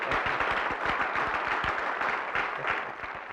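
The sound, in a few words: applause for an award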